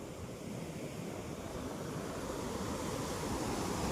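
Water rushes over the Sri Rama dam in a steady, broad roar that swells slightly, loud and continuous with no voices.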